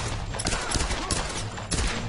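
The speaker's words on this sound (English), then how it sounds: "pistols are pretty weak, huh?" Pistol fire in the Tomb Raider video game comes as a dense, loud burst of rapid repeated shots over about two seconds, with no talking.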